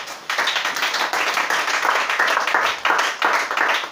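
A church congregation claps loudly together in praise of Jesus, a dense, continuous burst of many hands in rough rhythmic waves lasting several seconds.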